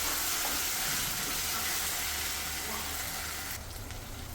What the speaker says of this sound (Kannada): ಈಗ ಇದು ಫ್ರೈ ಮಾಡ್ಕೊಳ್ಳೋಣ.